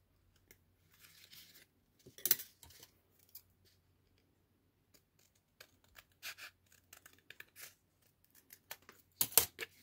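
Scissors snipping through toilet paper roll cardboard, a quiet series of irregular short cuts and scrapes with gaps of silence between them, close and alone.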